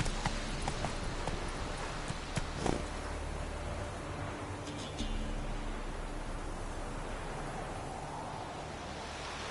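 A horse gallops in The Witcher video game, its hooves drumming steadily under a broad wash of wind-like noise, close and moderately loud.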